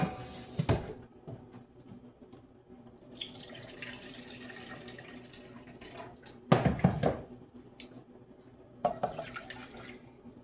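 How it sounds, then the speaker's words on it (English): Water runs from a tap into a cup for rice pudding in a home kitchen, in three short bursts of splashing flow separated by quieter moments of faint dripping and handling noise. "I am going to take a cup of water"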